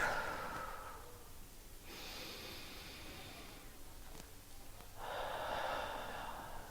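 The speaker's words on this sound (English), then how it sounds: "So we're going to take some deep breaths." Slow, deep breaths taken close to the microphone, three long airy inhales and exhales in a steady rhythm, soft and alone with no talking.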